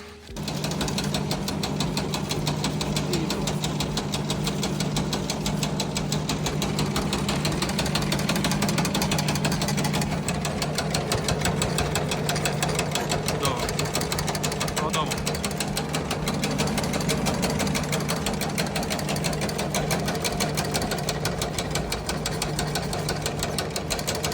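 An STvega industrial dicer cutting sweet dried fruits runs with a continuous mechanical rattle and hum, a rapid rhythmic chopping pulse held steady at close range for the whole stretch.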